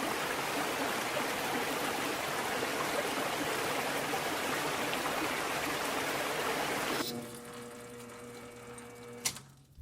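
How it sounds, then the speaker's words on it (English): Steady broadband ocean-wave wash plays loud and continuous, then cuts away to quieter lathe machining with a low steady hum and tonal whine while turning a model boiler smoke box, ending with a sharp click. "so I'm going to switch it to ocean sounds for your benefit"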